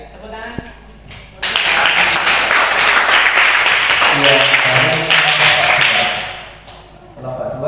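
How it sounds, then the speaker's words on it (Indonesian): A classroom bursts into applause for a student group's presentation, loud sustained clapping for about five seconds before fading, with brief talk before and after. "Ya, tepuk tangan."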